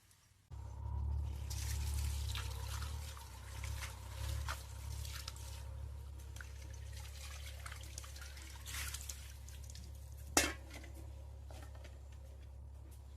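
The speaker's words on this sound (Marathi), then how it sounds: "भाजी अशी स्वच्छ धुवून घेतली" Freshly picked mustard greens are washed in water, with soft continuous sloshing and splashing, small squishes of wet leaves and one sharper knock near the end, close by and with no talk.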